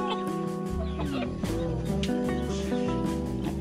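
Farm chickens cluck and chatter close by, a busy flock of hens with scattered short calls over a steady background hum, no speech over them.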